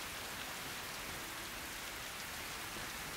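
Steady rain falling during a rainy, misty season, a dense continuous hiss with no talk, constant and fairly loud throughout.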